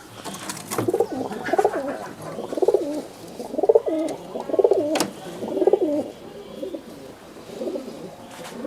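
Giribaz pigeons, a flying breed kept by fanciers, coo in a steady rhythmic series of throaty, rolling calls, about one each second, close by with no talk over them.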